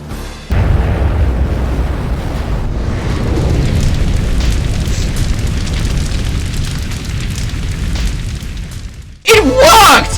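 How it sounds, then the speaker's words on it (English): A toy space rocket launch in a LEGO City scene roars as a loud, sustained rumbling blast lasting several seconds before cutting off abruptly, followed by a short burst of voice. "the rocket was going up in about 3 seconds"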